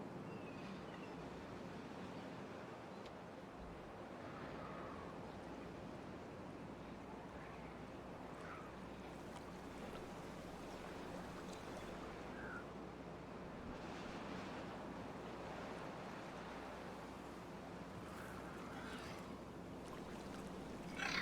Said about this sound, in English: The water shall flow.